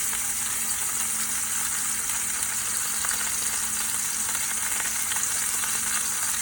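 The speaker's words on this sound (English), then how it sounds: "you want to hear that loud sizzler noise, that way you know your heat's on high enough" Pot roast searing in a very hot pan gives a loud, steady, dense sizzle and hiss that runs unbroken from start to finish, with no talking.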